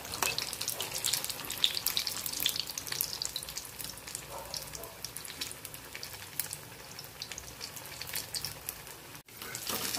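Sponge gourd (ridge gourd) bhaji deep-frying in hot oil, giving a steady, close hiss and crackle of bubbling oil across the whole stretch with no talk.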